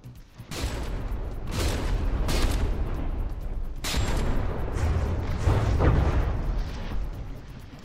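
Ship guns in the naval combat game From the Depths, with shots hitting the ships: a string of heavy booms and crackling blasts, several sharp bursts spaced a second or two apart over a steady rumbling backdrop.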